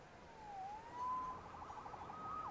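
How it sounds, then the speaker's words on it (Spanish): A police siren in Marvel's Spider-Man video game wails in the distance with rising and falling tones, faint over a low background rumble, and no voices are heard. "Salvado por la sirena."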